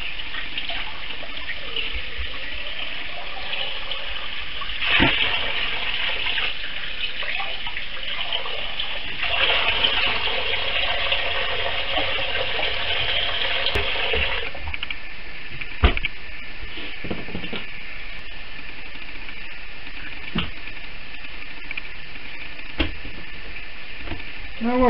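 Tap water runs steadily over a squid being washed in a kitchen sink, a continuous hiss with brief splashes and a few clatters, loud and close, with no talk.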